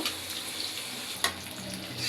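Steady oil sizzle of green chillies, onions and sugar frying in a kadai, with a brief sharp clink near the middle and a faint hiss throughout.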